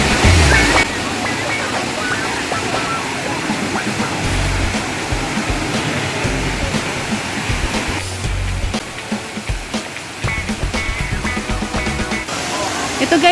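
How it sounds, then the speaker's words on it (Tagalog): Hinulugang Taktak waterfall in Antipolo, Rizal roars as a steady broadband rush of falling water, loud and close throughout. "Ito guys yung falls dito sa Hinulugang Taktak."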